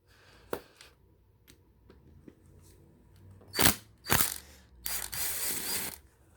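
Hand-loosening the screws on the oil pump of a 2005 Kawasaki 1600 Nomad with a wide Phillips screwdriver, heard as faint scattered clicks and then several loud, close ratcheting, grinding bursts.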